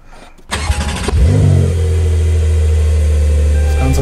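A Porsche 911 Carrera 4 GTS with PDK gearbox cranks briefly, fires and flares loudly, then drops into a steady, close idle, heard without any voices.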